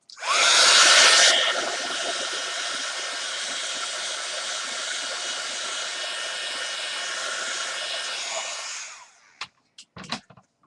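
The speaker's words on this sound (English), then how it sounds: "I'm going to heat set that just to make sure it's completely dry" A heat tool blows a loud, steady hiss of hot air to set ink on an art journal page. It holds for about nine seconds, then cuts off and leaves a few small clicks and handling sounds.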